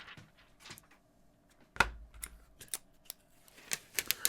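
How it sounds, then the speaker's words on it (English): Protective film peels off a Galaxy S25 Ultra phone case in a series of close crackling, tearing strips, including one sharp louder rip, with quiet pauses between pulls. "So we'll peel off the protective covers."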